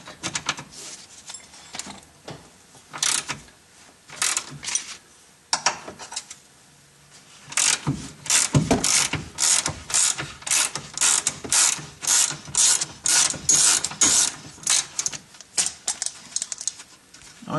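A hand ratchet clicks in quick repeated bursts while a 17 mm through bolt on a Mitsubishi Eclipse subframe bracket is broken loose, close and fairly loud, with short pauses between strokes.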